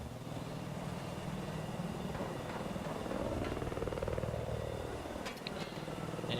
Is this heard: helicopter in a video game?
yes